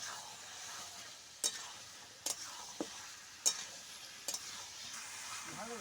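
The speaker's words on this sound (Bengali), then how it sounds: "আলু আর এঁচড়টা একসঙ্গে মশলার সঙ্গে খুব ভালো করে কষিয়ে নেব" Jackfruit and fried potato stir-fried with spices in a pan give a soft continuous sizzle, broken by several sharp spatula knocks against the pan at irregular intervals, close by.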